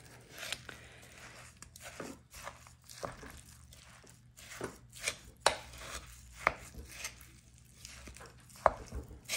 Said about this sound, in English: So I just like to take something and kind of just mix it together like this